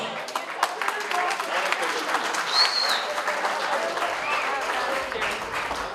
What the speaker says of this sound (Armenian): ծափահարություն է նաև մանուկի համար